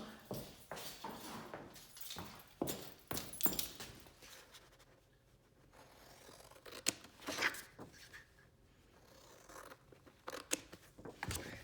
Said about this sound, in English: mark out on this piece of cardstock, a 3 by 3, and then we can cut this out